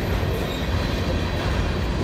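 A CSX freight train rolls along the Clinchfield line, its heavy steady rumble and wheel clatter filling the whole stretch at close range with no voices.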